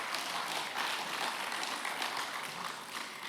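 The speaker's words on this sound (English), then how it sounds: "Give yourselves a round of applause" Faint, steady applause from a seminar audience of university graduates, a diffuse wash of many distant hands clapping without pause.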